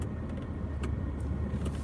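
Cars move through a backed-up interstate exit in wet weather, a steady low road rumble with faint passing whooshes and a few brief higher hisses, no talk over it.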